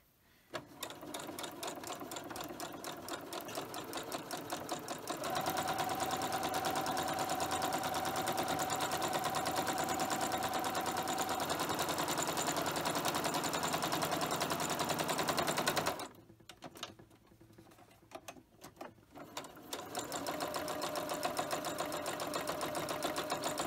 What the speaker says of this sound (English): I'm just going to randomly stitch all the way around this